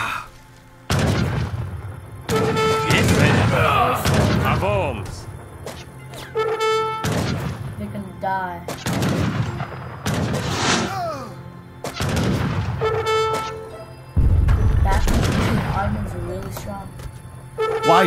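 Bombards fire in an Age of Empires campaign battle, heavy booms and cannon blasts repeating among game sounds, with voices speaking over much of the action.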